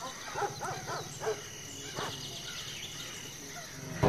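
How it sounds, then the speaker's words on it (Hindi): Dogs bark a few times in short clusters, sounding distant and moderately faint against a quiet outdoor background with occasional bird-like calls. "कुत्ते भौंक रहे हैं"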